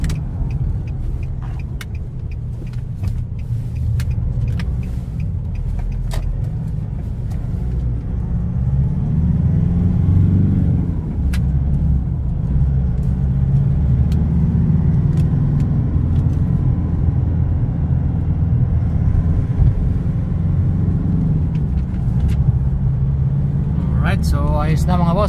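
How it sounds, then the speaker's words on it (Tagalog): Diesel engine of a Nissan Navara D40 with a YD25 DDTi idling steadily, a continuous low rumble close by with a brief rise in revs partway through and faint clatter. "Nissan Navara D40 YD25 engine, DDTI diesel."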